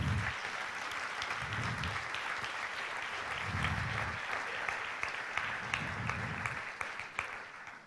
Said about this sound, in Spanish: aplaude, aplaude, aplaude al Señor